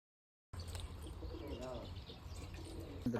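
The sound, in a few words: flock of pigeons flying and cooing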